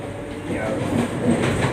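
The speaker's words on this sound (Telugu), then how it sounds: "వందే భారత్ ట్రైన్లో ఉండి నేను ఈ వీడియో మీకు అందిస్తున్నాను" Steady rumbling ride noise inside a moving Vande Bharat train, a continuous low drone with faint rattles filling the short stretch at moderate level, while someone talks over it.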